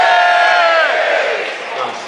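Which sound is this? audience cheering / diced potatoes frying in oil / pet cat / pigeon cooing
audience cheering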